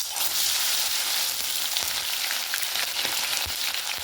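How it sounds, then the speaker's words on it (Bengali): Bata fish full of roe fry in hot oil in a wok, giving a steady, close, crackling sizzle with small pops throughout and no voices. "মাছগুলো ভেজে নেবো। কড়াই তেল দিয়েছি"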